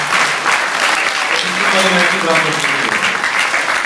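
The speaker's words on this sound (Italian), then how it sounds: "io vorrei rifare un applauso" Applause after a school Christmas performance, a full room clapping steadily throughout while a voice speaks briefly over it.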